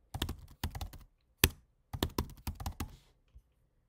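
Keys clatter on a computer keyboard as an email address is typed into an account signup form, coming in quick bursts of taps with short pauses between them, close and clear with no talking.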